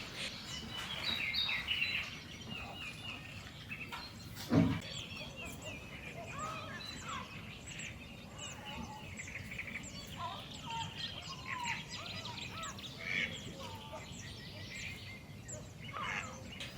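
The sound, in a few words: wetland waterbirds, mallards, egrets, coots at Aiguamolls de l'Empordà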